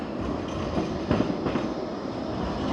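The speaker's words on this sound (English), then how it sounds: "Let's do a tram check, shall we?" A Blackpool tram passes close by with a steady, loud rumble and rhythmic wheel clatter throughout, and no voices.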